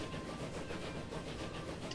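A train in Transport Fever labors up a hill, giving a dense, continuous rolling rumble with a faint rhythmic clatter over a short stretch.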